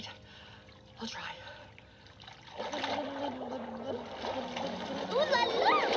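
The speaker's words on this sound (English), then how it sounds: "Now try blowing bubbles." Game sound of a swimming lesson: splashing and trickling water with bubbly gurgles building after a quiet start, mixed with talking voices.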